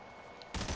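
A sudden burst of rapid gunfire in a video game shooter, a quick cluster of loud shots arriving after a brief quiet stretch.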